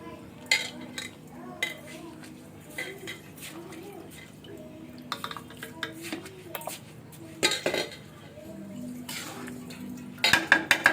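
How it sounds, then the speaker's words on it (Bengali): Washed rice being fried and stirred in oil in a pan for hilsa pulao, with repeated metallic scrapes and clinks of a spoon against the pan, irregular and close, over a soft sizzle. "এখন চালটা দেওয়ার পরে আমি কিছুটা এখানেই ভাজবো এই তেলের মধ্যেই"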